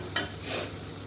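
Ground spices frying in oil over onion and tomato that were already browned red, a brief stirring scrape followed by a steady soft sizzle.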